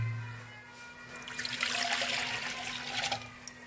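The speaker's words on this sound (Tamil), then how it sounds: "ஆற்றி நல்லா மிக்ஸ் பண்ணி நாட்டு சக்கரெலாம் கரைகிறதுக்காக மிக்ஸ் பண்ணுறோம்." Gooseberry juice poured to mix and dissolve jaggery, a close, brief splashing and trickling of liquid over a low steady hum.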